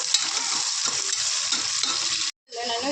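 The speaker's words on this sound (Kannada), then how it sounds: "ಸೊ ಇವೆಲ್ಲವನ್ನು ಚೆನ್ನಾಗಿ ಫ್ರೈ ಮಾಡ್ಕೊಂಬಿಡೋಣ" Spices, onion and sliced tomato fry for chicken biryani, giving a steady crackling sizzle with stirring scrapes throughout and a brief cut near the end before the frying resumes.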